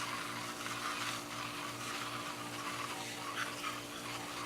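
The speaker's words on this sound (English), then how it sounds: "Nice watering." Water spraying steadily over newly planted seeds of lettuce, kale, cabbage and onion in a fall garden bed, a continuous close hiss with faint fluctuations, no talking.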